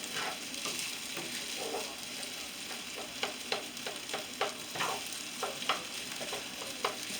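Chicken and vegetable fried rice sizzles in a pan while a utensil stirs it, producing a steady frying hiss punctuated by repeated sharp scraping clicks, close and without talk.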